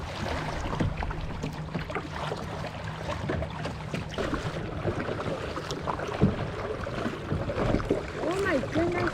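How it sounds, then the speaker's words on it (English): A kayak is paddled toward an island off the North Carolina coast, with rhythmic water swishes and splashes over wind buffeting and lapping water. Faint voices are heard now and then. "Paddling to the next island would be easy."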